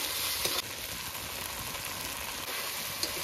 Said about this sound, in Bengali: এবারে এটাকে ভালো করে নেড়ে চেড়ে কষিয়ে নেব।